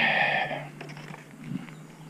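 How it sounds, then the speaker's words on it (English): Chickens let out of their farm coop during the morning routine, opening with a loud, drawn-out squawk or creak for about half a second, followed by quieter scattered clucks, shuffling and scratching close by, with no talking. "let's let the chicken girls out"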